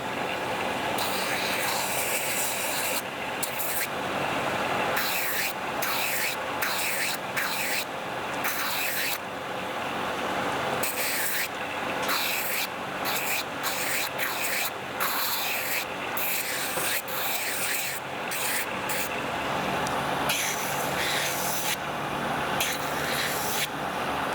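Steel paring knife being sanded by hand with 400 grit sandpaper, loud close rasping strokes repeated in a fast, uneven rhythm with short pauses between passes.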